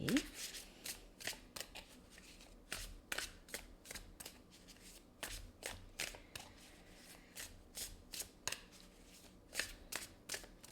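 Light Seers tarot cards being shuffled up close: a quick, regular series of crisp riffling flutters and soft slaps, with a quiet voice faintly present underneath.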